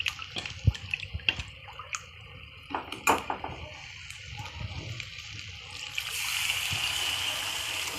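Crab claw stock is poured into a pan of spiced crab curry (chimbori rassa), following a few clinks and clatters of utensils, then a steady wash of liquid toward the end.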